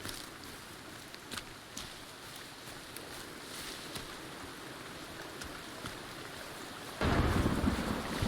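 Rain and wind sweep through a thunderstorm in the game Sons of the Forest as a steady, noisy wash, with a few faint crackles along the way and a sudden louder surge of rain and wind near the end.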